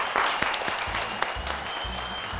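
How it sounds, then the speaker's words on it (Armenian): A studio audience at a television game show applauding, a dense continuous clapping close and loud for a couple of seconds without talk over it. "ծափահարություններ։"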